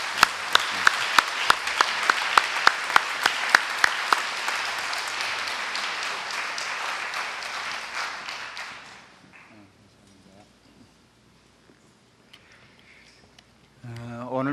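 Church congregation at a revival meeting applauding to welcome the pastor, a dense burst of loud clapping that fades out over several seconds, followed by quiet room sound.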